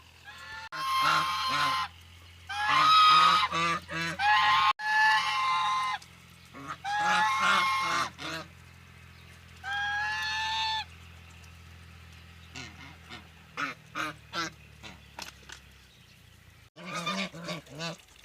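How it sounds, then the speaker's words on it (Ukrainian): Geese on a small farmyard in the morning honking loudly and close by, in repeated nasal calls and short bursts, with a low steady background hum. "Також гусиням даю травичку скошену"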